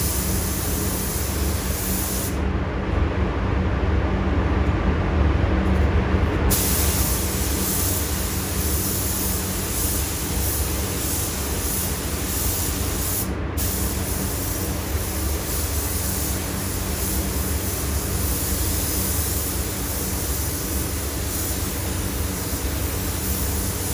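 Steady, loud hiss of a spray can laying a second coat of paint on an RC rock crawler body, continuous with two brief pauses, close up and without speech.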